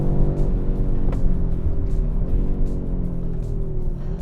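A 2023 Audi RS3 on a race track lets out a deep, steady engine growl that rises and falls slightly in pitch as it accelerates, heard loud and close from inside the car with no talk.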